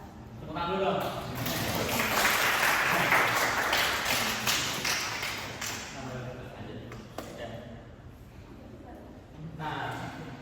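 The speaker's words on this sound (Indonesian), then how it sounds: "Tepuk tangan dulu dong." An audience at a school presentation in Indonesia breaks into clapping that swells, holds for several seconds and then fades, with talk over it and a brief renewed burst at the end.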